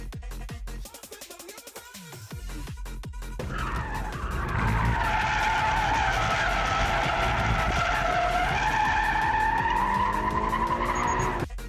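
A drifting car slides with tires skidding and squealing in a long, loud, sustained screech after a brief burst of engine noise, the car's engine droning underneath throughout.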